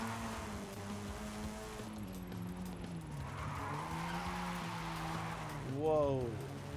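A large car in a racing video game drives with a steady engine drone, then skids with squealing tires, while a voice talks over it.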